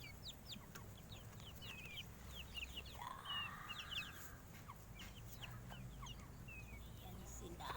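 Native chickens clucking in a farmyard, a flock of scattered short clucks and chirps at moderate distance over steady background noise, with brief human voices now and then.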